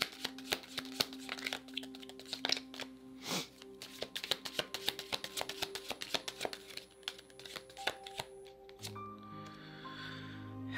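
Oracle cards are shuffled by hand in quick, repeated riffling and slapping bursts, close and fairly quiet, with no talking over them.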